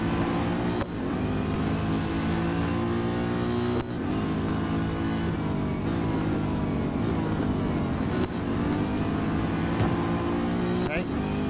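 Race car engines roar steadily in Real Racing 3, a Chevrolet Corvette C7.R on track, with continuous loud revving and shifting pitch as gears change and cars are overtaken across the laps.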